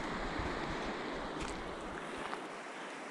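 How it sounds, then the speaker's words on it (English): A steady broadband rush of a nearby stream's running water flows outdoors near sumac bushes, constant and fairly loud with some wind buffeting, no voices over it. "If you can hear in the background, you can kind of hear the stream."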